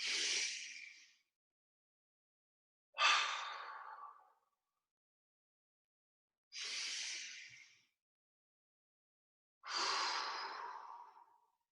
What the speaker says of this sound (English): And then take a big breath. And exhale.